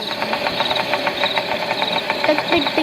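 Scooter engine in a school party craft video game, a steady buzzing idle with a rapid, regular knocking pulse that runs close and even throughout without pause.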